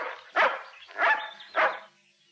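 A dog barks three times in quick succession, medium loud and close, with a short trailing whine after the last bark.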